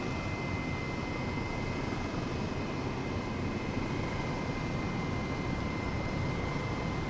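A helicopter in Flight Simulator 2020 flies over the Silverstone motor circuit, its engine and rotor making a continuous, even drone with no changes in loudness.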